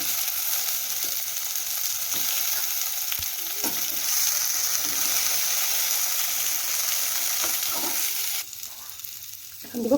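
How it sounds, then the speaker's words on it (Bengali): Potato and taro pieces fry in hot oil seasoned with five-spice, giving a steady, loud sizzle with occasional stirring clicks, easing into softer crackle near the end. "এখন একে একে সবজি সবগুলো ভেজে তুলব। প্রথমে দেবো আলু, তারপর দেবো কচু"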